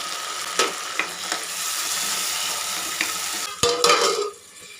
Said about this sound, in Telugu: టమాటాలు కూడా మెత్తగా వేగనిద్దాం